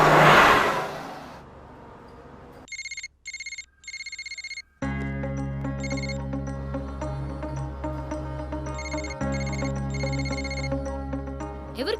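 A phone's electronic ringtone sounds in short repeated bursts during a call placed over and over, then settles into a longer, continuous ringing pattern over a low steady hum.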